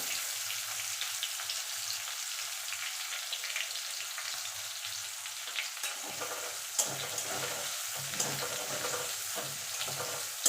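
Chopped medium onion frying in hot oil in a pan after tempering, a steady close sizzle with soft stirring clatters growing busier toward the end, no voices.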